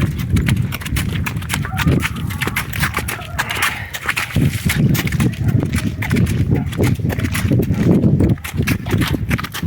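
Hooves clip-clop steadily as a calm, pregnant mare walks close by without a saddle, with a voice talking at times over the rhythmic steps.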